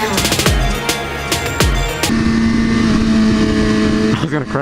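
A Yamaha R6 motorcycle engine revs loud and close, with sharp rising bursts early on, then a sustained high, steady drone, with voices talking over it.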